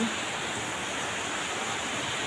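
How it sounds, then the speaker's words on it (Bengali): Heavy monsoon rain pours down in a steady, dense hiss that holds unchanged from start to finish, close and enveloping, with no voices over it. "আজকে অনেক ঝুম বৃষ্টি হচ্ছে"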